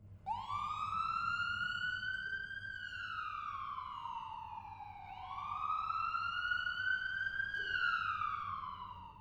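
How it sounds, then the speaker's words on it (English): A police siren wails in long rising and falling sweeps, several cycles over about nine seconds, fairly clear and steady against a low background hum, with no other sound over it. "After several minutes, we heard sirens in the distance."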